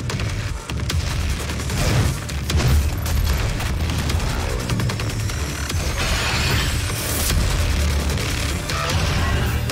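Booming blasts and crackling debris burst out amid dense, noisy action in the video game DOOM, with a few sharp impacts rising above the constant roar.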